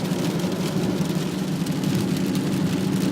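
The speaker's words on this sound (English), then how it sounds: "It is just a little bit rainy out today." Steady rain patters continuously on a surface, a dense, even hiss with no voices.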